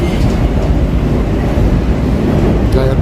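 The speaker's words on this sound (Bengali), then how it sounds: "এবার কিন্তু ট্রেন আমাদের উপরে দিকে উঠছে নাকি বলো না" A Kolkata metro train runs toward New Garia, recorded from inside the carriage: a loud, unbroken roar and rumble of wheels and motors, with no letup for the whole stretch.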